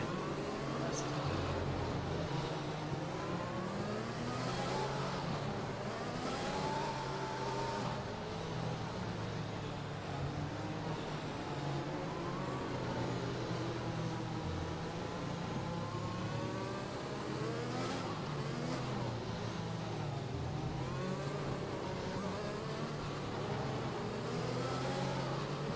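Race car engines rev and accelerate continuously at a safety car restart in a racing league event. Several overlapping engines rise and fall in pitch, sounding steady and fairly close, with faint commentary talk underneath.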